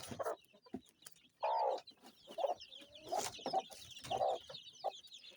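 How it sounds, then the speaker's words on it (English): A Kienyeji mother hen clucking among her two-week-old chicks on a poultry farm, with repeated close, low clucks in uneven bursts and faint peeping from the chicks between them. "We have 2 weeks old chicks together with their mom."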